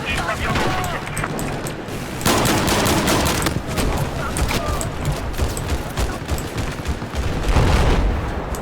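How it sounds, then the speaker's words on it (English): Rapid bursts of gunfire in a Battlefield 4 multiplayer match, dense and loud, with overlapping shots and booms blending into continuous battle noise, while a player's voice talks over the action. "Is this a shotgun?"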